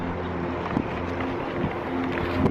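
Motors of a Diatone Mamba F722 FPV quadcopter drone spinning up on a test hover, a steady, close, buzzing whine with some wind noise.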